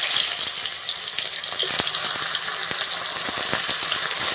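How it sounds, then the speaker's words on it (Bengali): Halved tomatoes sit cut side down in hot oil for a Nepali chhoila dish, sizzling and crackling steadily up close with sharp pops scattered through the hiss. "সেই তেলে কিন্তু টমেটোটা ভেজে নিতে হবে।"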